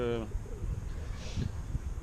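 Pigeons in a park give a brief low cooing call at the start, followed by soft murmuring bird sounds over a low background rumble.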